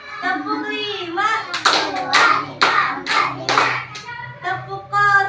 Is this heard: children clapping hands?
yes